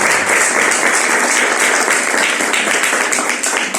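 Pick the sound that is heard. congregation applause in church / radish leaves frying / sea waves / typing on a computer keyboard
congregation applause in church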